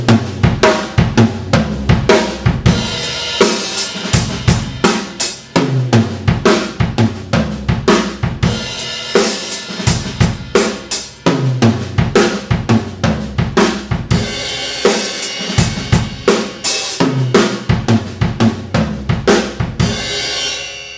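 A drummer plays linear fills around the toms with sharp snare accents, in a steady driving stream of rapid, loud, close hits.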